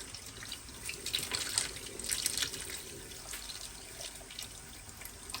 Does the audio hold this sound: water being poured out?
yes